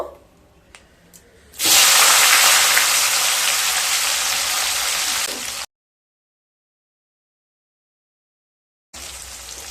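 Two large sliced onions hit hot oil with whole spices for an egg curry, bursting into a loud, steady sizzling hiss that runs for several seconds, cuts to silence, then returns.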